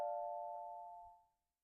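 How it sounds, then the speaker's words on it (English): Single bright tonal chime from a budget iLive 42-inch sound bar confirming a Bluetooth connection, ringing clearly then fading out over about a second in silence. "Chime sounds like it's connected."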